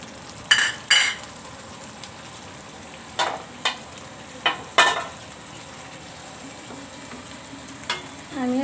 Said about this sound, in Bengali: আমি এখন মশলাটাকে একটু কষিয়ে নিব, যাতে মশলার মধ্যে থেকে কাঁচা গন্ধটা যায়।